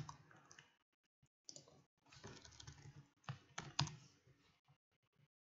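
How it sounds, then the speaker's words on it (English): Fingers type on a computer keyboard in short, irregular bursts of close, quiet key clicks separated by brief pauses. "Just type in a date."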